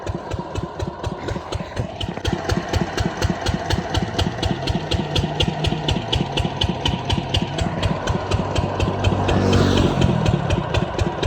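A farm machine engine runs steadily at idle at night with a rapid, even chugging pulse, loud and close, continuing throughout without any voices.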